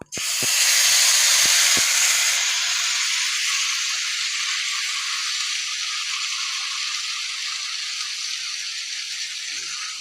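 Ginger, green chilli, cumin, coriander, turmeric and chilli powder paste hitting hot mustard oil, a loud burst of sizzling that starts abruptly with a few clatters, then settles into a steady broad hiss that fades slowly over ten seconds.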